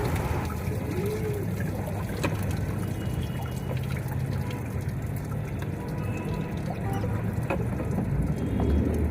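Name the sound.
washing clothes by hand with water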